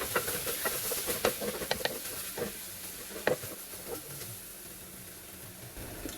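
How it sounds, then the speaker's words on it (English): Soft scraping and light clinks as curry is stirred into a bitter melon and pink salmon stew in a pot, steady patter with faint sizzling, close and quiet. "I'm going to give it a stir."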